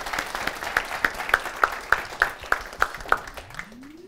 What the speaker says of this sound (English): I'd like to get you to applaud as well for all of our facilitators